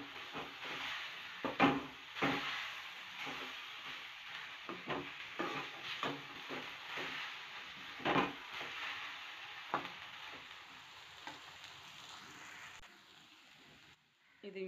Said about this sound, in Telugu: మెల్లగా తిప్పుకోండి, లో ఫ్లేమ్లోనే దీన్ని తిప్పుకోండి